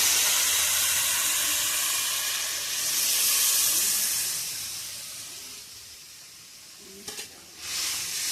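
Water poured into a pan of frying vegetable curry with potato and greens, producing a loud, steady hissing sizzle that gradually softens, with a brief clatter near the end; no talking.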